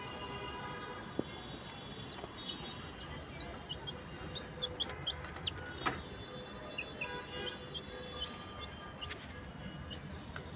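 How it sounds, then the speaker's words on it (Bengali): A chicken clucks and squawks repeatedly as it struggles to get free, with a constant outdoor background and other birds chirping faintly through the scene. "মুরগিটা বের হওয়ার জন্য ছটপট করছে মুরগিটাকে ছেড়ে দিই"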